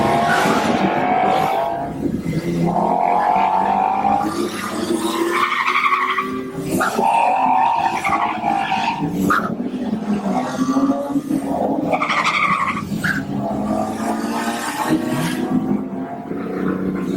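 A first-generation BMW M2 drives hard with its tires skidding and squealing over a constant engine roar, loud and sustained throughout with no talking.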